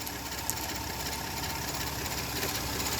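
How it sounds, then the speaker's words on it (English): A car engine runs at idle during an air conditioning recharge, a steady, close mechanical hum with light ticking and no talk. "Right now, the engine is running, so it's really hot."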